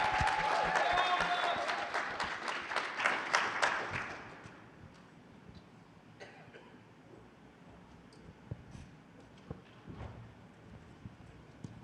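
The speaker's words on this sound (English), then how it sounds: "Round of applause." An audience at a venture competition claps loudly and densely for several seconds, then the applause fades into a quiet room with scattered clicks and faint shuffling.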